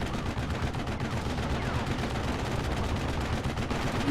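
A rear-mounted machine gun fires in Steel Division 44, a dense, steady rattle of rapid shots running unbroken through the whole stretch amid wider battlefield noise.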